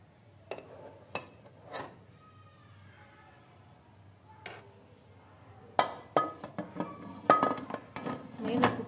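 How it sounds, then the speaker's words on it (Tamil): A metal cake pan is set down inside a heated pressure cooker, producing a few scattered knocks, then a busier cluster of clanks and metallic clinks near the end, close and moderately loud. "இப்போ நம்ம கேக் பேன் எடுத்து உள்ளே வச்சிடலாம்."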